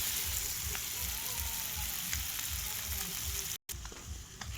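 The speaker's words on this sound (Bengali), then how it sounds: "দেখো আমি তেল ভাজছি, কাতলা মাছের তেল" Catla fish oil sizzles and fries steadily in a hot pan, a dense continuous crackle with a regular pulsing low rumble, close and fairly loud, briefly cutting out near the end.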